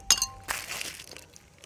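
Ice cubes clink against glasses in hot outdoor weather, a bright cluster of sharp clinks at the start followed by softer rattling and rustling that fades out.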